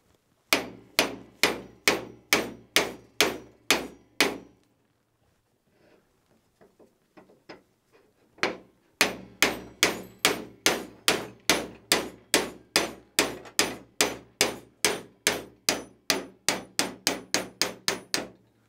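A copper-headed Thor hammer knocks a shaft out of a 1-inch scale gas mechanical model locomotive, struck in a steady run of sharp metallic blows, a short pause with faint handling noise, then a longer, faster series of hits.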